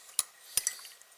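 A spoon clinks against the inside of a cup of tea in three quick, bright taps close by, with a faint hiss between and no voices.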